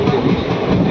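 Train running through hilly terrain near Navi Mumbai, with a steady, close rumble of wheels and carriage noise throughout.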